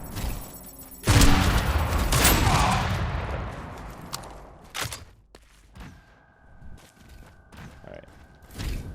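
A loud shotgun blast in Tribes 3 opens into a long rumbling decay, followed by scattered fainter shots, clicks and mechanical reload sounds over a quieter stretch.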